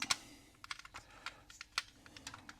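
Keys are pried off a Tomy Pyūta mkII computer keyboard, giving a run of sharp plastic clicks and snaps, irregular and close, some in quick pairs, others spaced apart, with no voices.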